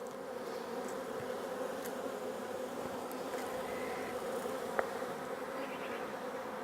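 A honeybee swarm that has just been shaken into a box gives a dense, continuous buzzing drone, steady and fairly close, with a brief tap near the end and no talking.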